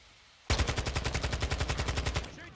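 A close, loud burst of automatic gunfire in the video game Modern Warfare 2: a fast, evenly spaced string of about twenty shots lasting roughly two seconds, then a sudden stop.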